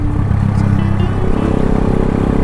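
A Keeway CR152 motorcycle on an early-morning ride toward Tagaytay, its engine a steady low drone with wind rush, close and continuous with no talking.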